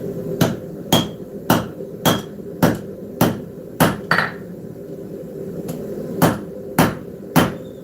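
A hammer forges a steel tip in a blacksmith's shop, striking about fourteen sharp, ringing blows in a steady rhythm with a brief pause midway, over a low background hum.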